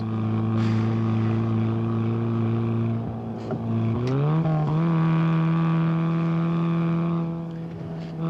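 A car engine runs hard during a chase, giving a loud, steady droning tone that rises in pitch partway through, then holds at the higher pitch with no talk over it.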